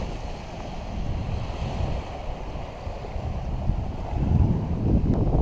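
Surf washes onto a beach at Elizabeth Harbour in the Exumas, Bahamas, heard as a continuous low rumble mixed with wind buffeting the microphone, swelling louder toward the end with no voices.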